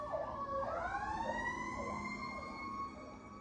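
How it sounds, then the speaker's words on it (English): An emergency siren wails and wavers in pitch, steady and fairly distant, continuing the whole time. "excuse the sirens"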